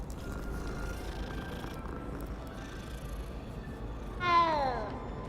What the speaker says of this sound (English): बिल्लियाँ घूम रही हैं तो भाई बिल्ली.